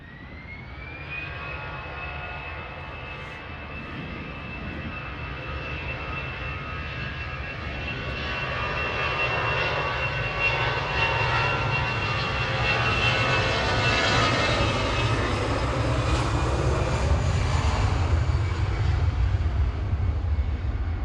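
An easyJet Airbus A320 jet departs Manchester Airport, its engine roar building steadily from a distant rumble to a loud, sustained thrust with a rising whine, continuous and unaccompanied by talk.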